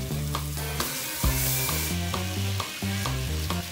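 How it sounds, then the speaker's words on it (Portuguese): Ground beef sizzles loudly in a hot pan with garlic and onion, a steady frying hiss broken by the scrape and clatter of stirring, close and alone with no voices. "E vamos selar a carne para agregar bem os sabores."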